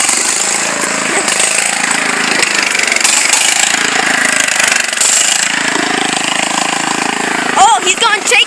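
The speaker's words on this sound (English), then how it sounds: "This tractor's all stock, all points of stock, no pulley swaps or nothing, and this thing is loud as, it's extremely loud" A loud stock John Deere tractor engine runs close by with a harsh, rapid chugging clatter that holds steady throughout, while a voice briefly talks over it near the end.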